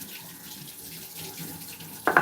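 Water running briefly from a tap while mixing the liquid for a pie crust, a faint steady trickle that ends in a short louder splash at the very end.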